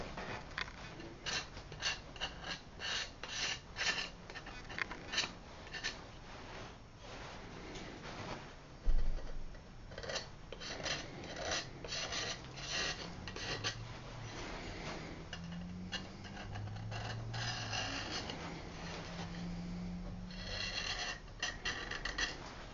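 A small knife trims the edge of a ceramic mold with faint, close scraping and clicking strokes in uneven bursts. One louder knock comes partway through.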